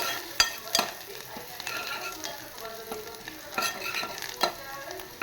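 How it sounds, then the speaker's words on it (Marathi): Turmeric goes into a sizzling oil tempering for an egg dish; a continuous close frying hiss runs underneath a spoon stirring the pan, with a few sharp metallic taps. "थोडीशी हळद टाकून दिली."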